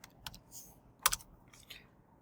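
Keystrokes on a computer keyboard while entering a password at a Linux terminal, a few scattered clicks with a short quick burst in the middle, close and fairly quiet with no talking.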